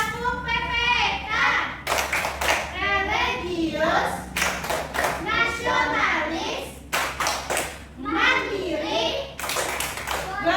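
Children in a classroom clap in rhythmic bursts along with the Tepuk PPK chant, chanting words in unison between the claps, with an adult voice leading the group.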